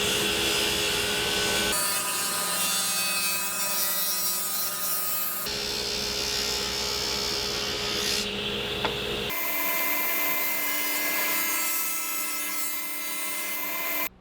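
A table saw blade cuts a stopped dado in a wooden cabinet board, a steady, loud whining rasp heard in several separate passes with abrupt starts and stops, and no voices.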